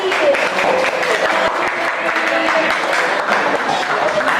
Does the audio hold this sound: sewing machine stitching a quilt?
no